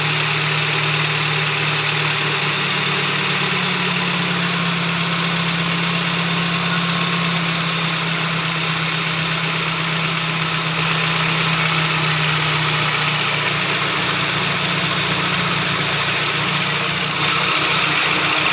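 A hydrovac truck engine idles steadily and close, a constant low rumble with a faint rattle and no talking.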